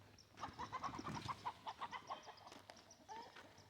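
Homestead chickens clucking in a quick, rhythmic run of short calls, fairly faint and close, with a few scattered squawks near the end.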